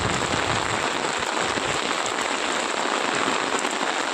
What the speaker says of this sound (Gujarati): બનાસકાંઠા જિલ્લામાં અતિ ભારે વરસાદ